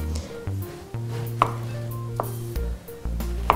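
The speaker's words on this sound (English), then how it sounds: "cut them into tiny little cubes" A knife chops firmly through apple on a cutting board, a series of sharp, close knocks in an uneven rhythm, with faint board and blade clatter between strokes.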